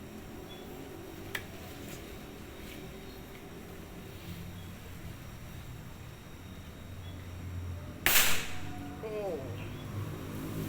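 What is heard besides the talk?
air rifle shot, Jawara Tiger Deluxe V5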